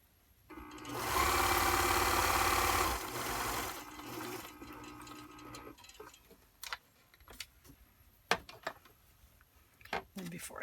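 A sewing machine runs in one loud sustained burst while stitching a kitchen towel, then drops to quieter, intermittent clicks and handling noises with faint talk nearby.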